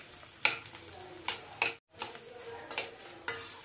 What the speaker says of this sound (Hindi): और देखिए मैं इसे धीमी आंच पर ही भून रही हूँ, तभी ये अच्छा होगा।